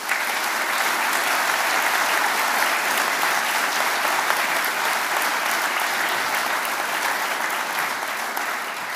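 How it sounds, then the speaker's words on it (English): Sustained audience applause for volunteer members at an ornithological society annual general meeting, a dense, steady roar of many hands clapping indoors for about nine seconds with no talking over it. "very big clap."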